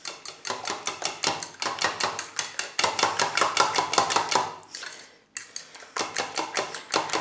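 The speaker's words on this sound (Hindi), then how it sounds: "इनको कर लेंगे अच्छे तरीके से अंडों को मिक्स" Eggs beaten with turmeric and spices in a bowl, a fast rhythmic clatter of utensil against the bowl in quick bursts, close and loud, pausing briefly before resuming.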